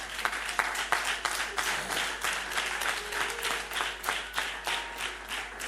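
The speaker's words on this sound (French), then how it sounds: "Si tu veux acclamer, acclame bien." An audience at a church revival service applauds, with dense, steady clapping that swells in rhythmic waves throughout.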